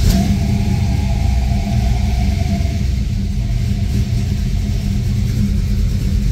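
LS-swapped Chevelle V8 running at idle, a steady loud low rumble with an even, unbroken drone and no voices.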